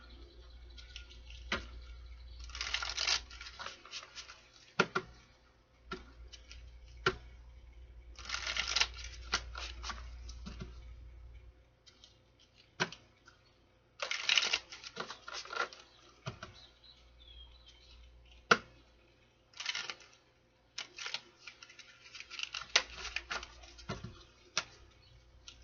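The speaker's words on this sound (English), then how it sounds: "Let's do one more shuffle here because that other one was kind of rough." Tarot cards are shuffled during a reading: repeated bursts of riffling and soft card slaps, close and quiet, broken by short pauses and light taps of cards set down.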